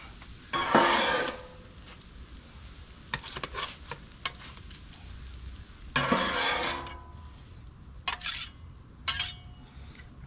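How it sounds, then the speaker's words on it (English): Scrambled eggs cooking on a Blackstone griddle, with soft sizzling under bursts of a spatula scraping and tapping the flat-top, the scrapes coming in short loud strokes with quieter gaps between. "So you can see these eggs are cooking up nice and quick"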